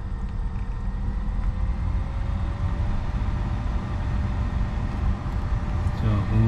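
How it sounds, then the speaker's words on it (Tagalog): A newly installed AC/heater blower motor in a 2015 Nissan Rogue Select runs with a steady whooshing hum of moving air, continuous throughout, with faint voice-like sounds mixed in. "kabit na natin yung bagong blower motor ngayon. Testing natin kung maandar."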